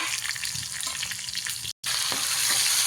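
Chillies, ginger, garlic and finely chopped onion sizzle loudly in a pan while being stirred for sambar, with a steady dense frying hiss and scraping. The sound breaks off for a moment and then resumes.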